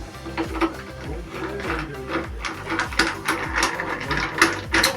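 Plastic-on-metal ratcheting and clicking as an injector cleaner fitting is screwed down by hand, a steady run of close mechanical clicks and rasps over a low rumble with no talk.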